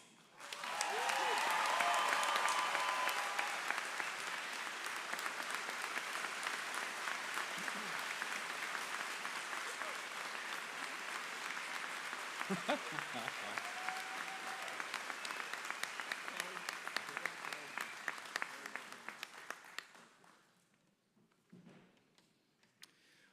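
Sustained applause from a commencement audience honoring graduates, loud and steady for about twenty seconds before trailing off into scattered claps near the end.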